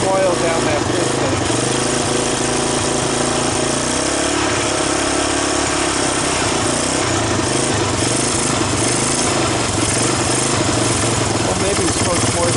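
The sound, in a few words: Honda ATC250ES Big Red ATV engine running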